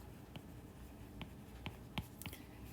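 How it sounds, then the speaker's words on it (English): Pen or marker writing down notes during a physics lecture on one-dimensional motion, a quiet scratching with several brief strokes and taps spread across the moment, close and low in level. "And I'll write this down."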